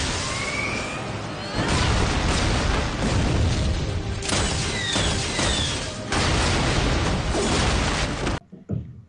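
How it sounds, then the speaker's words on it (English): Explosions boom one after another through an animated battle in the RWBY series, dense and loud, with crashing bursts filling the scene. The blasts cut off sharply near the end, leaving a few faint scattered knocks. "She's getting shot at, and there's explosions everywhere."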